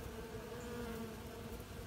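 Robber bees swarm and buzz at a hive entrance fitted with a robber screen, a faint, steady, close insect hum with no voices.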